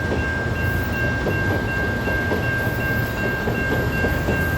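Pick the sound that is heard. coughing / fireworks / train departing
train departing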